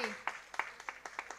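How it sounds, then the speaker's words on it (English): Faint, scattered hand clapping from a small audience at a foundation day celebration, with a handful of separate claps spread evenly across a brief moment. "Big round of applause already."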